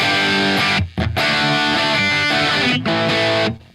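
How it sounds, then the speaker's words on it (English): An electric guitar pushed through a PROTO2 amp with heavy distortion plays thick, saturated chords and notes that ring loud and close, broken by two short silent gaps near the start and one later before the final chord fades. "to me, that's kind of desert island level distortion"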